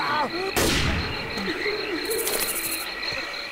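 Machine gun fire in the video game Left 4 Dead 2, in a swamp level, rattling loudly in a dense burst amid game sounds and background chatter.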